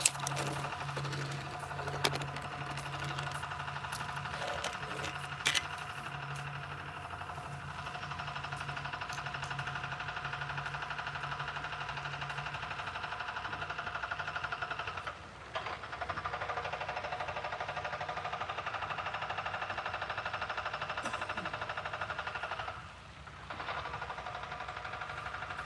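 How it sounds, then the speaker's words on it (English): A vacuum cleaner runs steadily for the whole stretch, a continuous whining motor hum with slight dips and bumps as it moves, heard alone without talk. "All right, I'm gonna grab the vacuum."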